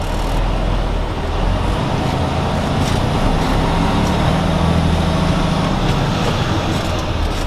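A Class A truck pulling forward for a service brake test, with a steady loud engine rumble and road noise throughout, continuous and close, with no talk.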